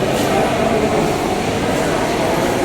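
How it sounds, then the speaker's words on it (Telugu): A metro train rumbles steadily through a station, a loud continuous roar that fills the whole stretch with no break. "ఇక్కడ బాగుంది మెట్రో స్టేషన్ అయితే."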